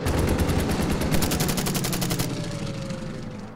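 A fighter attack on a Stuka in the strategy game Order of Battle: Panzerkrieg plays out as a rapid burst of machine-gun fire, loud and rhythmic, followed by a fading rumble.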